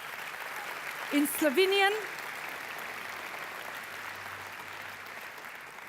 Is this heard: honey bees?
no